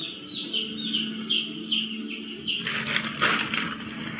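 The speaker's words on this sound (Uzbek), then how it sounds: "Bu yoqda broiler jo'jalar bor." Broiler chicks sixteen days old cheep in a steady, rapid chorus at a poultry house, many high peeping calls repeating under constant fan-like hum, growing busier and louder toward the end.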